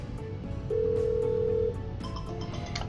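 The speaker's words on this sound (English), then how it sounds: "the mobile is ringing using the same DID" Mobile phone ringing for a Microsoft Teams call, a single steady electronic tone held for about a second, followed by faint clicks.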